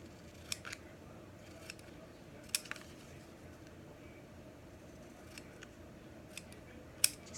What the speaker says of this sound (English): So let me just trim this just a tab.